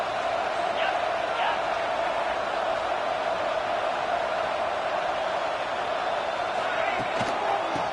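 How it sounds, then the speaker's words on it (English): A football stadium crowd roars loudly and steadily for the whole stretch, a dense wash of cheering with no break. "It's early, but this crowd is fired up. Listen to this noise here."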